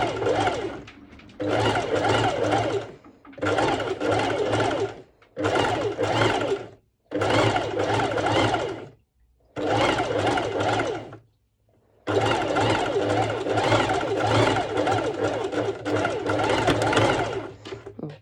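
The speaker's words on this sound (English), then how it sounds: "I'm going to do a top stitch on the bottom of the top. So the same, I'll be doing a zigzag stitch." A sewing machine runs a zigzag top stitch along the bottom hem of a cowl neck top, loud and close, in about six steady whirring bursts separated by short pauses, with one longer final run.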